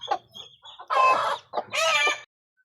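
A mother hen with seven newly hatched chicks clucks close by, starting with short soft clucks and then two longer, louder drawn-out calls.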